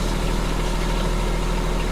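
A Kubota B2601 small compact tractor idles steadily outdoors, its diesel engine giving a continuous loud rumble with a low, even throb and no changes in speed.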